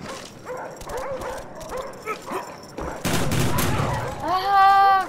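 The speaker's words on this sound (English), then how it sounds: "Is this bloody indestructible dogs?" Dogs bark and whimper amid bursts of gunfire in the video game Call of Duty: Black Ops 1, with a sudden loud volley near the end, fairly close and busy.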